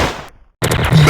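TMP sub machine gun fire in the Special Ops video game on the Ice Town map, a quick burst of loud close shots, a brief total silence, then another sharp burst with game voice sounds over it.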